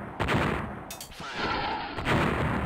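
A fighter aircraft's guns firing in a combat flight game, with bursts of loud, rapid cannon fire and booming impacts, a short lull, then more firing over a steady jet roar.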